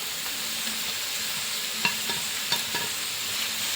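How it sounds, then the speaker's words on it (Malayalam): Shallots, green chilies and curry leaves sauté in a pan for a chicken curry, a steady close sizzle with a few sharp clicks of a spoon scraping and stirring, and no talk. "എല്ലാം കൂടി നന്നായിട്ടൊന്ന് വഴറ്റിയെടുക്കാം"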